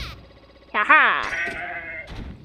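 A goat in the video game Zanki Zero lets out a wavering, harmonic bleat of about a second, loud and close, with a short burst of game noise or voice just before and after.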